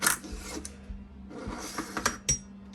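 The bolt is removed from an S&W M&P 10 rifle, with faint close metallic clicks, slides and light clatter spread over a few seconds and no talking.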